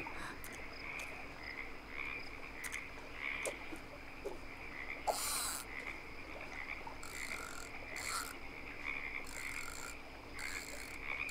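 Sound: frogs croaking in video game

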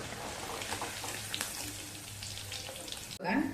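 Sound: paneer frying in oil until golden

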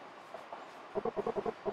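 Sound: train running, from the video game Eastward

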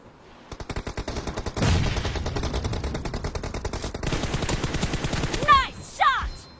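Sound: gunshots in a shooting video game

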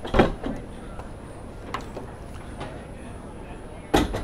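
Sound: yacht side door opening

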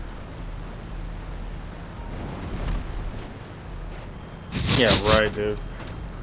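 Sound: explosion in video game

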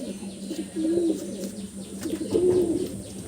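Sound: pigeons cooing in a loft

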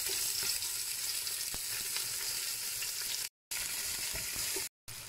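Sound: quartered onion browning in a pot for pot-au-feu

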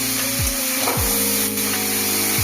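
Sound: frying grated potato with beetroot and carrot

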